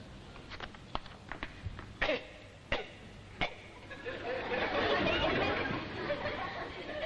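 A series of short, sharp coughs in quick bursts, followed by a louder wash of muffled rustling noise.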